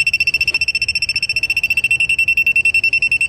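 A handheld gas leak tester beside an RV or trailer grill propane splitter gives off a rapid, piercing electronic beeping that pulses evenly and loudly throughout, with no talking over it.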